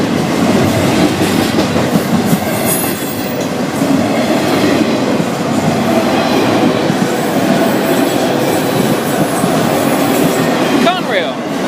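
An FEC freight train rolls past at close range, a loud continuous rumble of railcars with rhythmic clickety-clack from the wheels and a faint squeal near the end.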